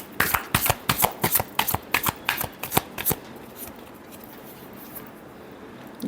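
Tarot cards being shuffled close by for a Gemini reading, a quick run of crisp riffling bursts in steady rhythm for about three seconds, then quiet room tone.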